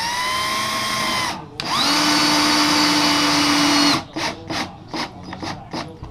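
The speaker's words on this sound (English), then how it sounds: "So I'm going to keep putting all these screws in here." Power drill driving screws into a camper window frame: a steady loud whine of about two seconds, a short pause, then a longer sustained run followed by a string of quick short bursts as the screw seats.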